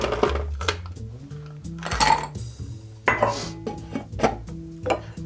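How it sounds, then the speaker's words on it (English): Four large ice cubes clatter into a metal cocktail shaker tin, a run of loud, close clinks and knocks arriving in quick bursts, with no talk. "Grab your shaker tin, and what we're going to do is add 4 good-sized cubes of ice"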